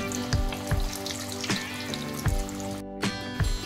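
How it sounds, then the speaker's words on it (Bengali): Rohu fish fry pieces sizzle steadily in hot white oil, a close, continuous crackle punctuated by sharper pops and spits every half second or so. "তেলটা গরম হয়ে গেছে, এবার একটা একটা করে ফ্রাই ছেড়ে দিচ্ছি।"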